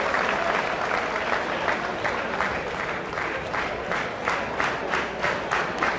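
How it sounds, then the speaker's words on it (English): The Paulsboro crowd at a 2000 high school wrestling dual against Phillipsburg keeps up steady applause mixed with cheers and shouts, a continuous roar of clapping heard from a short distance with brief louder surges. "Some of the happy Paulsboro crowd."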